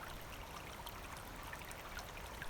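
Small spring-fed creek flowing in cold winter air, a steady close trickle and burble of water running continuously with no other sounds.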